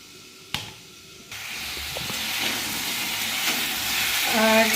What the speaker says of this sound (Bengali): আর পটল আলু সব একসঙ্গে ভেজে নিচ্ছি